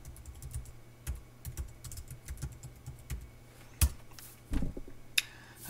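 Someone types a login password on a computer keyboard, with irregular bursts of close key clicks and a few louder, sharper key strikes spread across the stretch.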